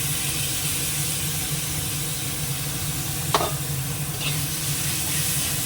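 Chili and tomato paste sizzle steadily in a pan of fried onions for a spicy mutton dish, with a constant broadband hiss and one brief scrape of a spoon midway; no one speaks.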